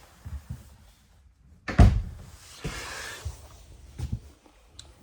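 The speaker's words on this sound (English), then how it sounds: "I hate that this door swings into the bathroom." The bathroom door of a 2026 Montana High Country 311RD fifth-wheel camper is swung with one solid thump near the start of the movement. Lighter knocks and soft rattles follow in a quiet interior.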